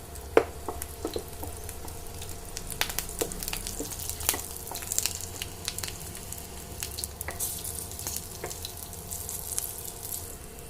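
Crushed garlic fries in hot oil in a pan for chicken pepper fry, a constant sizzle dotted with sharp crackles and pops, close and fairly loud with no voices.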